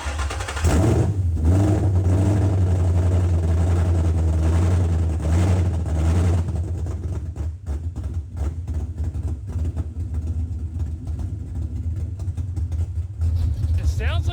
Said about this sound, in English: idling a little better now.